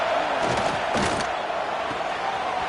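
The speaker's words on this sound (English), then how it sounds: "Man, this crowd really affecting the football game." A stadium home crowd roars steadily through a college football game in NCAA 26, a loud, dense wash of cheering with a brief swell near the middle, South Carolina playing Ole Miss.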